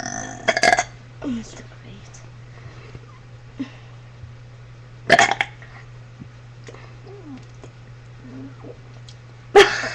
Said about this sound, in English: It's from all the burping.